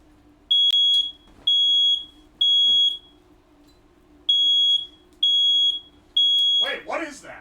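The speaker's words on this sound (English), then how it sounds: "Is that the carbon monoxide alarm, or did I put a fire alarm down here?" A home smoke or carbon monoxide alarm in a kitchen sounds six loud, piercing beeps in a steady rhythm, each about half a second long with short gaps, followed by a voice speaking at the end.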